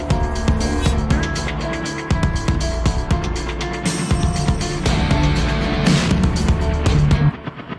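Drum loop from the Damage drum kit library played in Logic Pro, a dense, punchy electronic-cinematic beat with steady rhythmic hits and crashes, loud and continuous for several bars with no talking.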